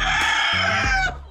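A brooding hen, one of two sitting on eggs, gives a short, close, loud drawn-out cluck lasting about a second.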